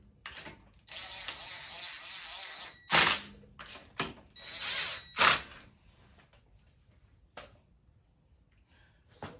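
Power tool briefly tightening rear brake bolts on a 2019–2020 Subaru Forester, several short whirring bursts with ratcheting clicks separated by quiet gaps, close and fairly loud.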